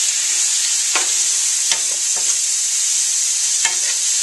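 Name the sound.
tomatoes added to a pan, stirring and sizzling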